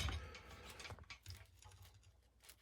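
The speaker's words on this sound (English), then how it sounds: "I'm taking a pipe wrench, and as you can see, it's turning the nipple too, and it's tightening it down into that elbow" A pipe wrench turns a rusted threaded pipe nipple down into an elbow fitting, giving faint ratcheting metal clicks and scrapes in a quiet room during a leaky pipe repair.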